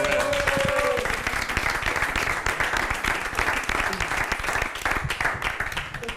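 An audience at a live variety show applauds a magic trick that made something vanish, a dense, steady wash of many hands clapping that carries on for about six seconds at full volume.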